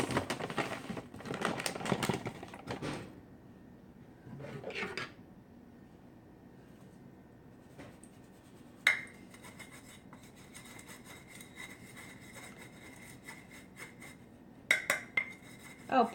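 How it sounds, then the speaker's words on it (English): Coconut flour being sifted through a metal sifter in a kitchen, with a close, soft rasping and rubbing for a few seconds, then quieter scraping and sharp metallic taps. "Now you sift this because it helps with the lumps."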